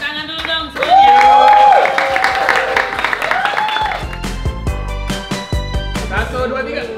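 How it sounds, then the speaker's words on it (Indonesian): Office staff at an anniversary party break into scattered clapping, sharp claps and applause mixed with voices and singing-like tones, loud and close in a lively indoor crowd. "Tepuk tangan dulu dong semuanya."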